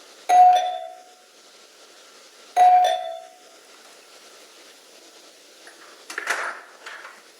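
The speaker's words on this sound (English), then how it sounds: "To me, that's a sad sounding doorbell." A quiet old household doorbell chimes twice, about two seconds apart, each tone ringing out and fading, followed by faint rustling near the end.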